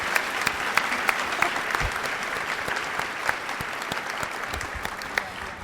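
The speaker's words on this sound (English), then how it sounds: "can we give both of our panel members a round of applause?" Round of applause from an audience honoring two panel members at a college scholars day event, dense steady clapping with a few louder individual claps, sustained throughout at moderate distance.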